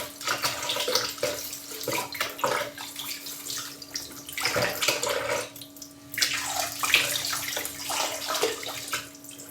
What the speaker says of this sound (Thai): ล้างทำความสะอาดมีด อีกรอบนึงเนาะ